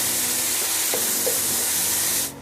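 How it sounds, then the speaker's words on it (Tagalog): Ground pork sizzles steadily as a spoon stirs it around a hot frying pan, with soft scraping through a constant frying hiss that stops abruptly at the end. "Tuloy-tuloy lang tayo sa paghalo hanggang sa lumabas yung sariling mantika ng ating"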